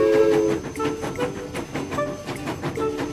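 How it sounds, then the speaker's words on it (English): A cartoon train strains to climb a bridge and then rolls back down the hill. It makes steady rattling, rumbling rail noise with repeated clicks and a sustained whistle-like tone near the start, fairly loud and close. "Oh, the train is trying to go up, but it's rolling down the hill."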